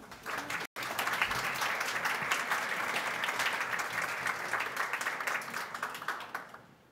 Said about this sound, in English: I will honor that applause for that